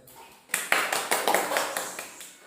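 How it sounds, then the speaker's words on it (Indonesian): Classroom students clap for a classmate after a sudden start, a short burst of distinct, fairly rhythmic claps from a small group nearby that gradually thins and fades. "Tepuk tangan dulu buat teman kalian."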